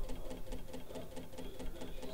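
A computer cooler fan rigged as a homemade perpetual-motion device with LED lights whirs steadily, a continuous mechanical hum with a regular rhythmic flutter, close and moderately loud.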